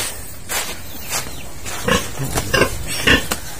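Pig on a small farm giving a few short grunts and snorts around the middle and end, close by and fairly loud, with no talk.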